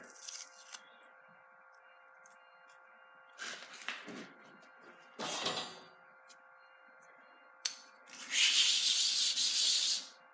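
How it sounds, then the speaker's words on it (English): Several short bursts of sanding a chef knife spacer with 220 grit, scratchy rasping strokes in separate bouts, with a longer, louder stretch near the end. "I'm just sanding at 220 for this spacer"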